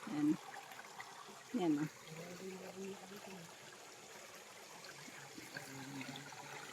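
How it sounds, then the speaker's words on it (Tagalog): Small rocky stream on the side of a farm lot trickling with a soft, steady wash throughout, fairly quiet, with a voice speaking briefly near the start. "Ito po yung sapa dito po sa side ng property."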